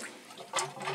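Rinse water sloshing and trickling in the full tub of a 1996 Maytag Dependable Care Plus washer on its delicate cycle, a soft steady wash with a brighter splash surge midway, close and fairly quiet.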